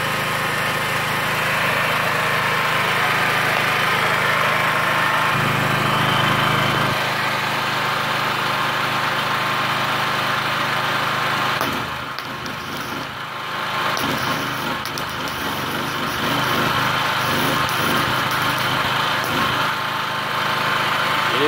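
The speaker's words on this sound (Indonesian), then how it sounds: "Gensetnya lumayan kuat ya, bagus ini." A petrol generator, type 3900, powers a gasless MIG welding machine, its engine droning loudly and steadily throughout, with a brief dip in the middle before it resumes.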